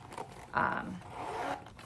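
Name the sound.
zipper on a handbag vanity case pocket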